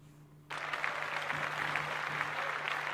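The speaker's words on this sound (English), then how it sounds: "Let's clap that up." A burst of clapping starts abruptly and carries on steadily on a podcast, with a low electrical hum underneath and no talk.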